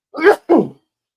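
Someone sneezes close by in a quiet setting, a quick two-part burst with a sharp intake and a forceful release, then silence.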